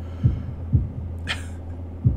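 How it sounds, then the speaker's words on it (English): Heartbeat sound effect from the video game Katawa Shoujo, slow deep thumps about every half second over a low hum, with a brief higher swish in between. "holding my breath in an attempt to hear my heartbeat"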